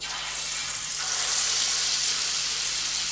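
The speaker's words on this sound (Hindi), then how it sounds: "मैं सारी की सारी बूंदी अपनी फ्राई कर रही हूँ" Boondi batter drops frying in hot oil, a steady, loud bubbling sizzle that fills the whole stretch without pause.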